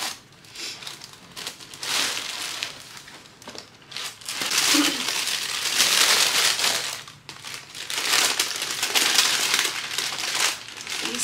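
Wrapping paper inside a Nike LeBron XX shoe box being crumpled and pulled out during an unboxing, loud crinkling bursts that come and go over about eleven seconds, close up, with no talking.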